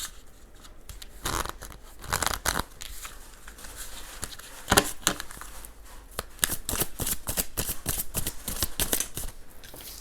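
Tarot cards are shuffled and drawn by hand close up, with quick bursts of riffling and papery slaps and pauses in between. The sound is fairly faint and there is no speech.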